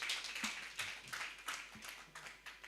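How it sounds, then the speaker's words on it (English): Faint, distant applause from a seated audience at an HR conference, a loose patter of hands that swells and fades in small bursts with no voices over it. "A round of applause, please."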